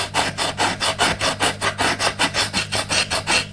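Sandpaper glued to a wooden dowel rubs back and forth over a wooden ship model, about fifteen close, even rasping strokes in quick steady rhythm.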